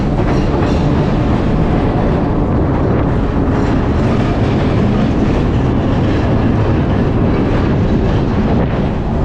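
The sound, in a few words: passing train near Virginia Capital Trail bridge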